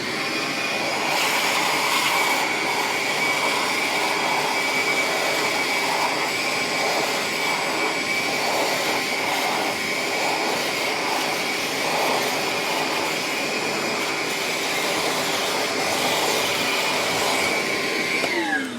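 A Ryobi bucket-top wet/dry vacuum runs loud and steady close by, sucking up fine miter-saw sawdust off a mat with a continuous whining roar that keeps up the whole time.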